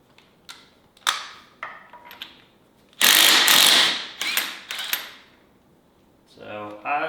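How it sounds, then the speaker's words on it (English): An impact wrench fires in short, sharp bursts on the flywheel nut of a Raptor 700 ATV during an engine build. The rattling hits are loud and close, with one longer sustained run in the middle and quieter clicks and handling noise between them. "go ahead and hit this with an impact"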